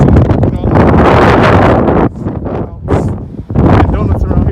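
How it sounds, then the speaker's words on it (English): Gusty wind buffets an outdoor microphone with loud low rumbling, easing and surging in waves, while someone talks over it at a spot where a Mk6 car with a 2.5 straight-pipe exhaust is parked. "it's windy"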